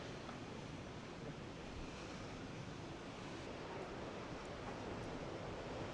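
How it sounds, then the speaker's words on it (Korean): Ocean waves surging against the shore on a Busan coastline, a steady broadband wash of surf mixed with wind noise on the microphone, continuous and fairly faint with no talking. "이런 파도에 부딪히는 게 말이야."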